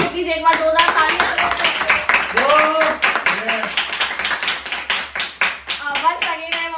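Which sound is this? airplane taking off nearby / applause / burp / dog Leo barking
applause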